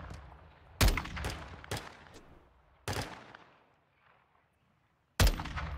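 Sharp, isolated gunshots from Call of Duty Warzone 2.0, five distinct reports with reverberant tails and gaps between them, one long pause before the last shot.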